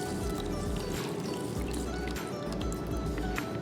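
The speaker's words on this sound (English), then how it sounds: "now you can just use tap water to rinse your sample a little bit more" Tap water runs steadily over a sample on a sieve, a dense continuous rush and patter with faint splashing, close and unbroken for the whole stretch.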